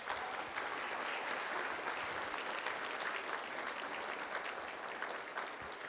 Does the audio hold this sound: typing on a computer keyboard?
no